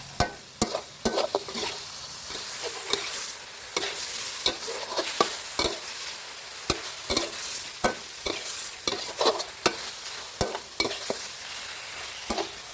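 Pork stir-fried with red curry paste in a pan: a steady sizzle broken by sharp, rhythmic scrapes and clacks of the spatula as the meat is tossed.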